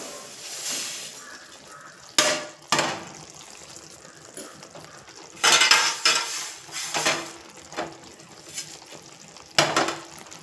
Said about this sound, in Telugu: ఇవి నువ్వులు కూడా వేసేద్దామండి